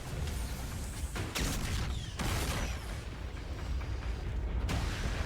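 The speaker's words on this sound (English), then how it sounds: "Big explosion, big explosion." Deep, rumbling blasts and crackling debris from a StarCraft 2 animation with siege tanks, several bursts breaking through a dense, continuous roar of battle noise at moderate loudness.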